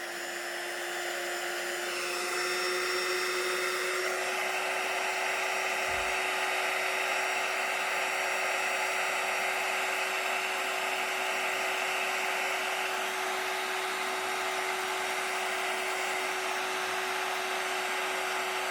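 Heat gun blowing hot air over a handmade hedgehog shaker card, a steady whirring hum with a high whine that grows slightly louder after a few seconds and continues unbroken, with no voices.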